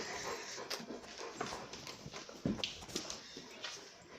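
Several dogs coming indoors, whimpering and shuffling with clicking paw steps on the floor in a busy, restless jumble, fairly close and moderately quiet, with no talk.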